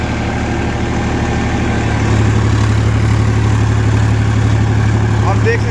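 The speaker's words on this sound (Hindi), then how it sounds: "ट्रैक्टर कितना बढ़िया चल गया है" A Massey Ferguson 245 DI tractor drives a Maschio rotavator through its PTO, a steady loud low diesel rumble that deepens and thickens partway through, with a faint voice underneath.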